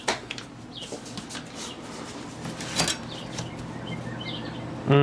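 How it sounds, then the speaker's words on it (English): Birds outside a window chirp and call in scattered short bursts over a quiet room background, with a louder call near the end. "The bird sounds so nice."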